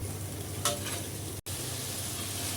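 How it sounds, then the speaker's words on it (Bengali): Cumin and spice paste frying hard in oil in a pan for katla fish curry, a dense, close, continuous sizzle with a brief scrape of stirring near the start and a short break partway through, no talk. "এক চামচের একটু বেশি জিরা গুঁড়া এক চা চামচ মশলার ওপরে তেল চলে আসা পর্যন্ত খুব ভালো করে ভুনা করে নেব"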